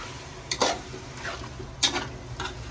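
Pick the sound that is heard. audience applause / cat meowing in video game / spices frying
spices frying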